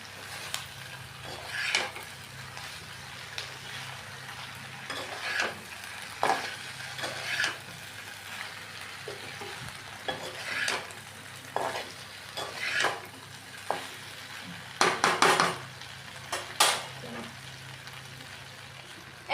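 Chicken pieces for chilli chicken fry in hot oil under a steady low sizzle, broken by repeated scraping stirs and spatula clinks against the pan. The sound is close and moderately quiet.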